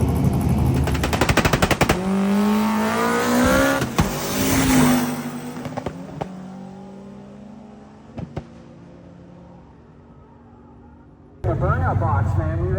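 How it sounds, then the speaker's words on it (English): A nitrous drag racing car makes a pass: a loud, rapid-fire crackling engine roar with rising revs that fades into the distance, followed by quieter engine noise and a renewed burst near the end, with an announcer talking throughout. "The nitrous car is coming back around for his first pass, hoping to get it down."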